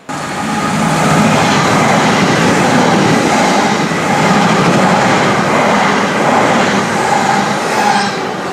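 An Elizabeth line train running on its first day of through service, a loud steady rumble of wheels and motors from inside the carriage, with faint rhythmic rail clicks and slight squeal, no voices.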